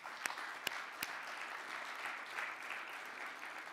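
Faint, distant applause from a conference audience after short poster-presenter lightning talks, a steady patter of many hands with a few sharper individual claps near the start.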